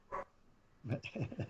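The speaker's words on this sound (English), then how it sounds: "You can check off dog barking from the live stream bingo card." A dog barks nearby during a live stream, one sharp bark followed after a pause by a quick burst of several more barks and yips.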